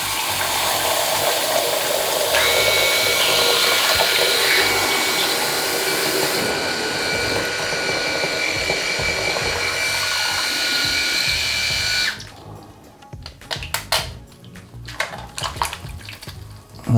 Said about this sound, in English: Then run it under the tap, switch it on, run it under the tap.